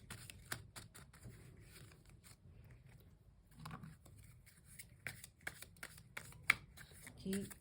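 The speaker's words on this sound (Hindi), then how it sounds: "एक और कार्ड से देख लेते हैं" Playing cards shuffled by hand: a run of quick crisp riffles and snaps in irregular bursts, close but fairly quiet, with no speech in this stretch.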